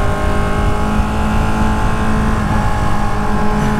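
A 2018 Ducati Panigale 1299R Final Edition motorcycle engine roars at high revs under riding, a loud continuous whine with faint shift breaks from the quick shifter and no voices.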